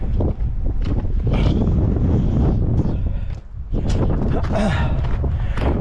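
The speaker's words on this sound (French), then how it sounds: "il y a pas mal de vent" Strong wind in the calanques of Marseille buffets the microphone in gusty, rumbling bursts, with a voice partly audible beneath the roar.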